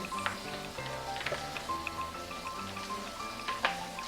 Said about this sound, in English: I'm going to give the brisket a rinse